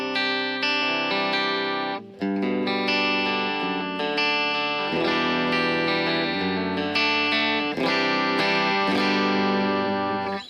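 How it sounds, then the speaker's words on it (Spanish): A Gretsch Electromatic Jet G5230T-140 Anniversary electric guitar plays ringing chords and short phrases with a bright, effects-laden tone, notes sustaining over about ten seconds with a brief gap near the start. "Si pueden notar, el sonido es muy característico de estas guitarras."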